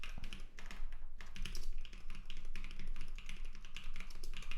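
Computer keyboard typing while writing Rust compiler code, fast, continuous clattering keystrokes up close at moderate volume, with no talking.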